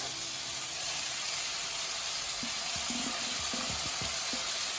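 Onions, celery and carrots sizzle in a hot stir-fry pan, giving a constant loud hiss with a few low knocks and bumps from the pan toward the end. No one speaks.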